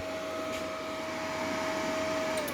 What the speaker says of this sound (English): the fan noise doesn't bother me at all